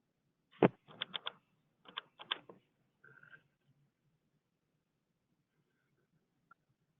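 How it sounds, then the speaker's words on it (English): Keys clatter in quick bursts of clicks and taps, several short clusters in the first three seconds and then a long quiet stretch with one faint tap near the end. The typing is close by, no one talks, and a soft low background hum sits underneath. "I was typing"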